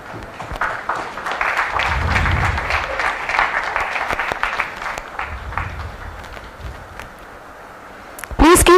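Audience applause for an award winner at an AI in healthcare summit, a steady wash of clapping over about eight seconds with some voices mixed in, ending in a brief louder burst.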